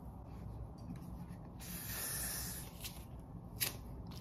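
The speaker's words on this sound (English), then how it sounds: "Spray the whole thing." Hair spray hisses onto a lace-front bob wig in one long burst, then a shorter one, close and fairly soft against a quiet room.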